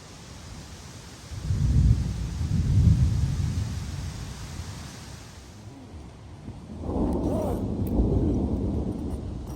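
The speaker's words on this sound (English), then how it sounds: "Lightning, thunder, wind." A big storm rolling in late at night on a hot camping stretch of the Superior Hiking Trail, with two low rumbles of thunder early, then a rising rush of wind and rain with more deep rumbling later, fairly close.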